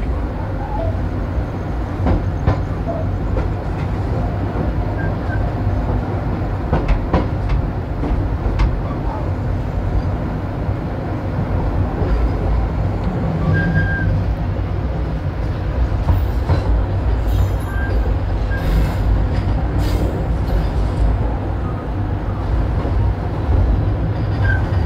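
Jayabaya executive train pulling into Jatinegara station, heard from inside the carriage as a loud, continuous rumble with rail clatter and occasional metallic squeals and clicks throughout.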